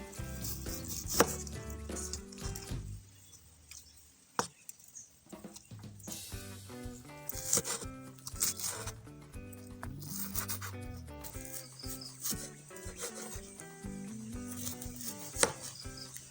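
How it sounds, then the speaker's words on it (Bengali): A knife finely chops onion on a board for cauliflower vorta, a quiet series of quick irregular taps and scraping cuts with a short pause midway, with nobody speaking. "পেঁয়াজটাকে কিভাবে কাটছি সেটা একবার অবজার্ভ করে নিতে পারেন।"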